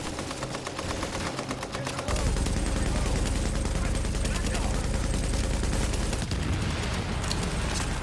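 Blind-fire gunfire in Tom Clancy's The Division: rapid automatic bursts rattle at close range, starting lighter and then becoming a loud, sustained fusillade that continues to the end.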